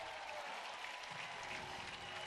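A distant spring-training baseball crowd at a Marlins–Phillies game roars and claps steadily after a two-run home run, a broad, even wash of cheering with no pauses.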